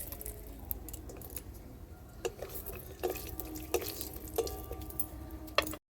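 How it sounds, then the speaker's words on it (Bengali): Cashews frying in white oil in a hot kadai, with a soft bubbling sizzle under scattered sharp pops and stirring clicks, close and fairly quiet. "সাদা তেলে কাজুটা ভেজে নিচ্ছি।"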